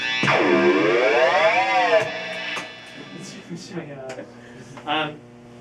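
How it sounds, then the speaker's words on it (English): A sweeping, swooshing flanger effect on a sustained guitar tone, with the pitch rising and falling for about two seconds before quieter plucked notes follow. "the way a flanger works is basically the delayed signal is getting delayed"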